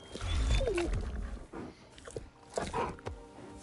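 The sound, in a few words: giant wolf Fenrir being petted in God of War Ragnarok video game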